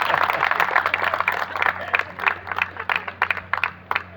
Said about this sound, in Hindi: तुम वेट कर रहे हो कि लोग ताली बजाएं तुम्हारे लिए